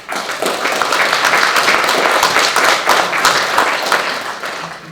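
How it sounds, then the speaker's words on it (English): An audience at a college scholarship ceremony breaks into sustained applause, a full, loud wash of many hands clapping with no talk over it. "Please give yourselves a big round of applause."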